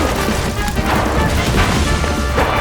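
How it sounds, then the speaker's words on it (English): Dense, continuous barrage of bursts and booms, loud and close, with crashing impacts layered throughout: rapid weapon fire in a chaotic battle in the video game MOUSE: P.I. for Hire. "this is gunfire"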